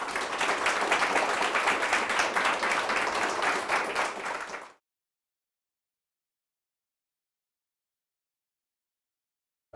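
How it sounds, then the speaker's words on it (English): Audience applause for a speaker on the digital revolution and the future of work: steady, dense clapping for about four and a half seconds, then fading quickly into silence. "Can we give Ryan a round of applause?"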